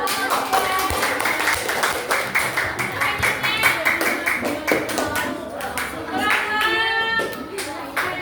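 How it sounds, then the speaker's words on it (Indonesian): An elementary school class claps together in quick, fairly rhythmic bursts, close and lively, while children's and a teacher's voices talk over and between the claps. "Oke, tepuk tangan dulu."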